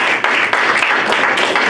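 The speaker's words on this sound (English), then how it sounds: "Somebody give a clap for Jesus." Congregation clapping during a bilingual church service, a short burst of many hands clapping close and loud, with no voice over it.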